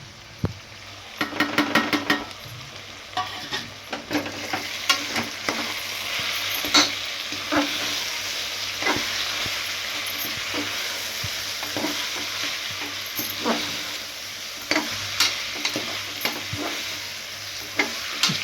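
Spices including garam masala, coriander powder and pulao masala fry in hot oil for pulao, sizzling under repeated scraping, clattering stirs of a spoon against the pan, close and fairly loud, no talking.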